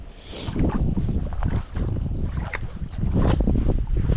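Strong wind buffeting the microphone in steady rumbling gusts while spinning for pike and perch around 0 degrees, loud and continuous throughout.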